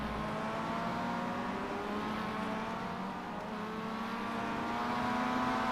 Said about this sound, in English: these cars are still going through the chicane quite quickly